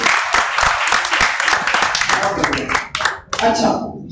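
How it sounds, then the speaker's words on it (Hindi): Audience clapping at a Das Lakshan Mahaparv religious gathering, a dense burst of many hands that thins and tapers off toward the end, with a voice audible briefly underneath. "चुप्पी एक बार फिर से तालियां बजाइए सभी लोग।"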